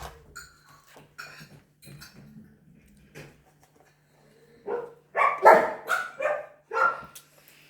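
Hungry puppies yap in scattered bursts, faint at first and then loud, close barks near the end, with some clinking dishes in a quiet room.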